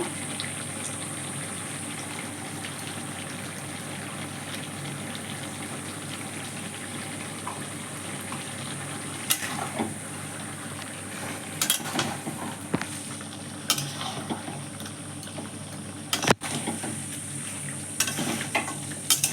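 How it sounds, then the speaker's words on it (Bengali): Chicken pieces with turmeric sauté in a pan, giving off a steady low sizzle. Sharp scrapes and knocks from stirring break through now and then, growing more frequent toward the end. "মাংসটা আমি ভালো করে কষিয়ে নেব। হলুদ দিয়ে দেব।"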